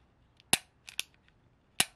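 Trigger of a cleared, unloaded gun being dry-fired, giving three sharp, loud clicks, the first and last isolated and a softer double snap between them, with no talk.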